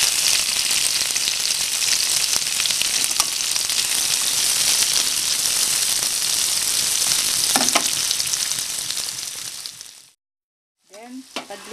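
Onion frying for a swordfish steak sauce. A loud, steady, crackling sizzle runs for about ten seconds, with a few faint stirring clinks, then cuts out briefly before a short return.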